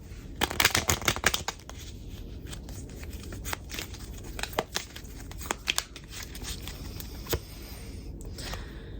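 Cards are shuffled in quick crisp riffling bursts, busiest at the start and then in scattered flurries, fairly quiet and close, with no talking.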